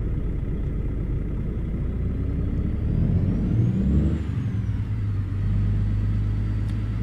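Swift-branded truck pulls away in American Truck Simulator, its engine rumbling low and steady, rising briefly as it accelerates, then settling into a constant drone.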